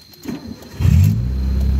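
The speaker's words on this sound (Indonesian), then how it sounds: "sekarang kita coba hidupkan mesinnya" A Mitsubishi Lancer Evo 3 fuel-injected engine cranks briefly and then catches, settling into a loud, steady idle rumble close by.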